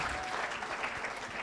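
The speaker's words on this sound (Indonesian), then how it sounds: "Tepuk tangan yang meriah untuk kemuliaan Tuhan." Steady, fairly faint applause from a church retreat congregation, a dense continuous patter of many hands clapping with no voices over it.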